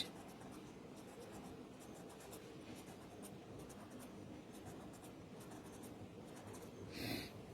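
Pen or brush scratching across paper while scribbling zigzag lines for a watercolour doodle, a faint steady scratchy rasp with brief strokes, a little louder near the end.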